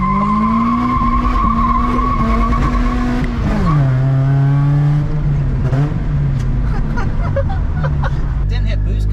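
A car launches at night, its engine roaring and revving loudly with a sustained tire squeal, the pitch dipping and climbing as it pulls away, with voices murmuring underneath at a car meet.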